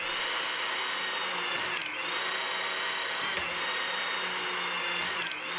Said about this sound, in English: Using the pump control, advance the wrench so that it rotates the nut.